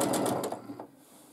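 A sewing machine running during free motion quilting, its fast needle chatter steady and close for most of a second before slowing and trailing off.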